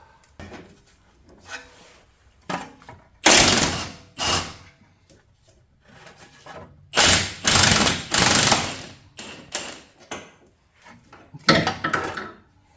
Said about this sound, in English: I got my swivel piece and my impact. And then I'm gonna go put that on the other side of the nut. Try to loosen this up.